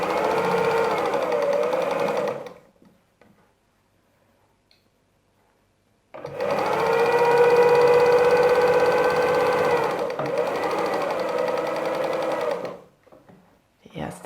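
A sewing machine stitches patchwork fabric pieces in two loud, steady humming runs with a rapid needle rhythm, separated by a few seconds of near silence, with no talk.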